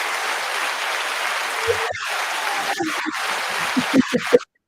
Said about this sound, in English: You didn't know you were getting applause, did you?